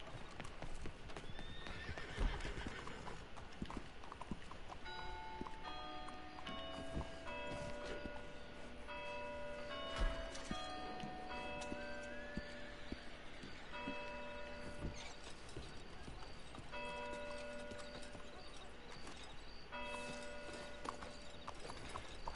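Hooves clip-clop steadily from a horse in a video game, with a few whinnies breaking through over a busy game soundtrack of tones and effects.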